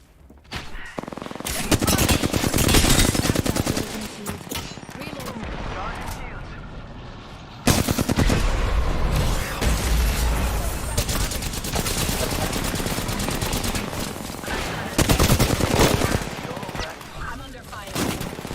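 Dense bursts of automatic gunfire and explosions fill a firefight in the game Apex Legends, loud and near with shifting intensity, while a voice speaks over the shooting.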